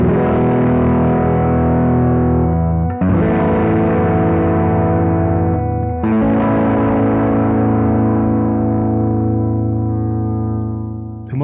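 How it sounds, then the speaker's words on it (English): A saturated, distorted electric guitar through a dry tube amp plays sustained chords, restruck twice, thick and buzzy with a dry, close tone, ringing out loudly throughout. "you will hear a dry, saturated tube amp sound,"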